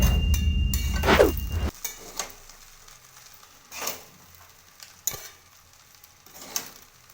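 Rice being stirred and fried with tomato sauce for Bengali bhaat bhaja, a loud burst of sizzling at first, then quieter sizzle with intermittent scraping stirs and clinks of the spoon against the pan.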